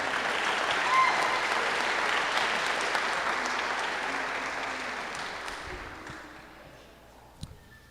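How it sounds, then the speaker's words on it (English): Applause from a banquet audience at an awards ceremony, a steady wash of many hands clapping that holds loud for several seconds, then thins and fades out near the end with a few last claps. "Let's give her a round of applause."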